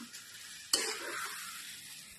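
Taro leaves with turmeric powder and salt sizzle quietly in a pan, with one short scrape of stirring partway through and a faint sizzle fading afterward.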